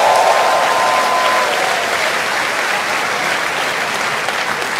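Loud, steady applause from a large audience at a religious healing service, a dense crowd clapping that holds for about five seconds with no voices over it.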